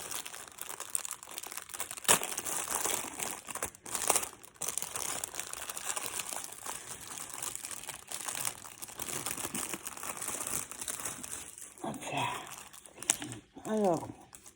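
Plastic packaging from an AliExpress parcel is torn and crinkled open up close, with steady rustling throughout, a few sharper tears and crunches, and a person talking lightly over it.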